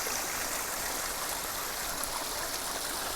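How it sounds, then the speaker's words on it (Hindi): A waterfall-fed stream pours out of dense forest on the trek to Rudradhari Falls near Kausani, a steady broadband rush of flowing water filling the air without a break. "अंदर घने जंगल से ये झरना कहीं से आ रहा होगा"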